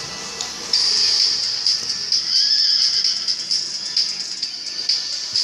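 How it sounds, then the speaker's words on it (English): A horse neighs amid a steady high-pitched hiss, with faint rattling and clattering sounds scattered throughout. "Horse."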